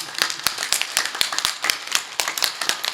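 An audience at a Hindi poetry and bhajan gathering claps along in steady, rhythmic unison, sharp hand strikes repeating at a brisk even pace, close and lively with no talking over them.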